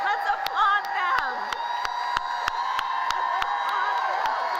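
A crowd at a vice-presidential rally in Raleigh, North Carolina cheers and whoops for first-time voters, sustained overlapping shouts with scattered sharp claps throughout.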